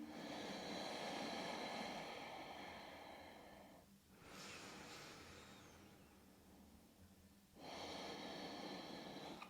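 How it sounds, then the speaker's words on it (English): Slow, audible nasal breaths with a slight constriction at the back of the throat during a yoga flow, heard as soft, airy rushes: a long inhale-exhale, a brief pause near four seconds, then another breath building near the end. "Just noticing that little constriction at the back of the throat, how audible the breath may be."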